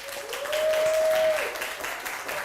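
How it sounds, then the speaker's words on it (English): A crowd at an educator awards event applauds steadily for a couple of seconds, with a thin sustained whistle-like tone sounding through the middle of the clapping. "let's give her a round of applause"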